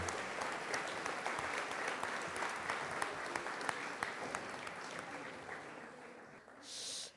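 A municipal New Year's reception audience applauds children's handmade wreaths, with steady, moderately loud clapping and distinct individual claps standing out. It tapers off near the end into a brief hiss.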